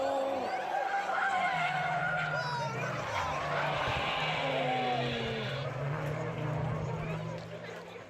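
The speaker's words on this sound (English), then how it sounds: "Yeah, it was quite a big crash." Clio Cup race cars at a British Touring Car Championship meeting roar past with sliding, shifting engine tones and skidding tires in one continuous, busy stretch, with voices talking over it.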